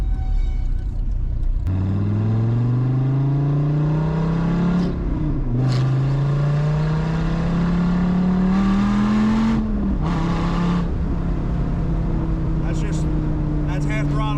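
A 2009 Dodge Viper ACR's engine revs at half throttle, rising in a loud climbing drone that dips briefly and climbs again before settling to a steady idle, close by.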